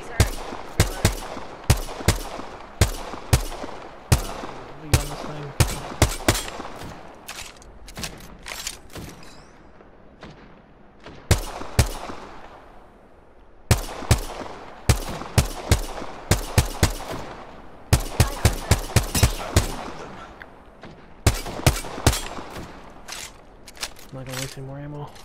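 Rapid gunfire in the battle game Apex Legends, with bursts of sharp automatic shots and single cracks repeating loudly throughout, separated by brief lulls, with voices talking over the action.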